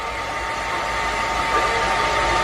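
A hair blower runs steadily before a show, giving a continuous broadband whooshing airflow with a constant motor hum, loud and close throughout with no voices.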